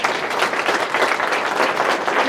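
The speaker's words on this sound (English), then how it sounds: "let's give another round of applause" A room full of people gives a round of applause at a gathering, a dense, even wash of clapping that holds steady at a fairly loud level throughout, with no voices standing out above it.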